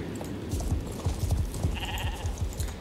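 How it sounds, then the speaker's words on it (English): A sheep bleats in repeated short, low bursts, fairly close, with a few brighter, higher-pitched bleats mixed in and no talking. "There's a sheep down there."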